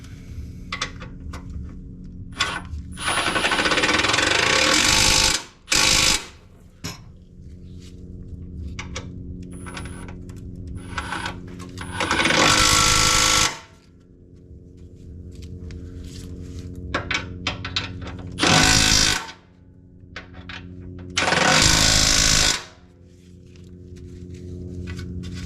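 A power tool tightens bolts while a lower splash shield, valance and bumper grille are fitted, running in several loud whirring bursts of a few seconds each, separated by quieter handling noises.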